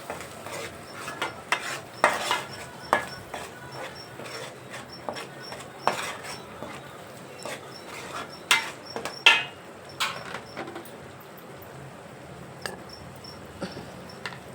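Raw fish with turmeric being stirred in a pan, soft scraping and clinking strokes repeating irregularly and fairly quietly over a faint steady background hiss.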